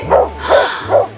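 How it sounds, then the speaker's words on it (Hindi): Three loud, evenly spaced barks from a dog, close by, with a low steady hum underneath and no talking. "कुत्ता है।"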